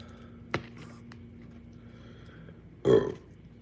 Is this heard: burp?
yes